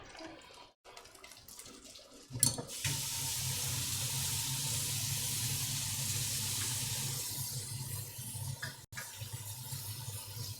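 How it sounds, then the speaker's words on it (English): Tap water runs steadily into a kitchen sink during home cooking, starting with a sudden rush and holding a constant, hissing splash for several seconds before a brief interruption near the end, close and alone without talk. "I've got a whole bunch of water running."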